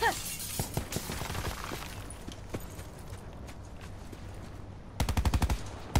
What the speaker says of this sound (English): why our friend is shooting on us?